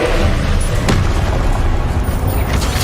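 The Expelliarmus spell cast in Hogwarts Legacy: a loud, dense booming blast with a sharp crack near the start, rumbling continuously through the whole moment amid other game noise, with no talk.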